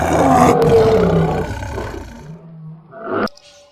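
A toy lion lets out a loud electronic roar that swells and fades over about three seconds, ending in a sharp click.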